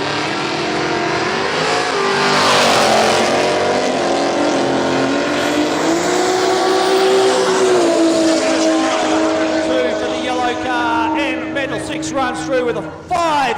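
A yellow Pontiac Grand Le Mans makes a drag racing run, its engine roaring loud and rising steadily through the gears as it pulls away, while an announcer talks over it.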